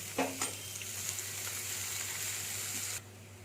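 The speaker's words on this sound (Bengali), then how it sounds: "এবার পেঁয়াজটাকেও আমি একটু লাল করে ভেজে নিচ্ছি" Chopped onion frying in hot oil, reddening in a pan: a steady, close sizzle running throughout, with a couple of brief stirring clatters near the start and the hiss dropping off near the end; no one speaks.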